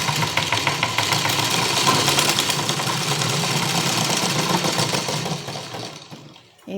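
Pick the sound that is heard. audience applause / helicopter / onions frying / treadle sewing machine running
treadle sewing machine running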